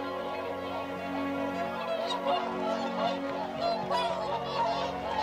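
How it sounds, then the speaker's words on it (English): Pink-footed geese honking steadily overhead as they fly in over wetland, a dense chorus of many calls continuing throughout at moderate loudness. "there's yet more pink-footed geese flying in"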